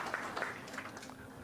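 Faint, steady applause from a pool-hall audience during a match featuring Efren Bata Reyes, a soft continuous patter of clapping heard from a distance with no talk over it.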